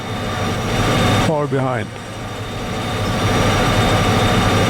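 A scrap metal train in Derail Valley rumbles with a steady low engine drone and rolling clatter, joined briefly by a rising whining tone, while someone speaks over it.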